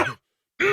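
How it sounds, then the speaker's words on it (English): A man clears his throat twice at close range, two loud rough rasps separated by a brief silence. "I'm just gonna clear my throat"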